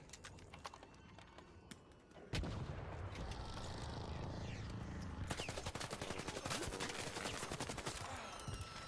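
Rapid bursts of video game gunfire from Night Swarm, sharp repeated cracks that grow dense and continuous after a quieter, sparser opening, loud and close throughout.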